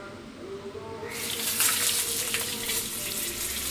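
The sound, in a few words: sliced plantain chips frying in hot oil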